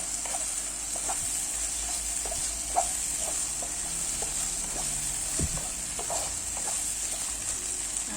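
Shrimp and squid sambal fries in hot oil with a steady, continuous sizzle, close and even, broken by occasional small pops and the clink of stirring, with no talking.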